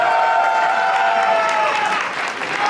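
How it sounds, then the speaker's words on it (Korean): Boxing match audience applauding after a first-round TKO win at a professional super featherweight bout, a steady loud wash of clapping with some cheering that holds throughout and thins slightly near the end. "큰 그 박수 부탁드리겠습니다"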